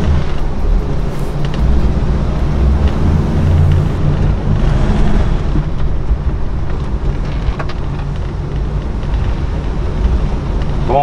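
A classic Chevrolet Camaro being driven gives off a steady low engine drone with road and wind rumble throughout, loud and continuous with no talking.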